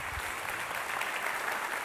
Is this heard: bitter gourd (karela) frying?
no